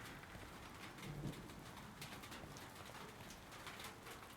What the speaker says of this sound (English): just that rain on that tin roof sound